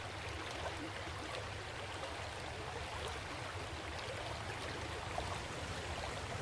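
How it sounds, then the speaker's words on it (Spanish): A wide, winding, muddy river in Africa flows with a low, steady wash of moving water, faint and continuous throughout with no voices. "un río ancho y sinuoso. El agua del río es turbia"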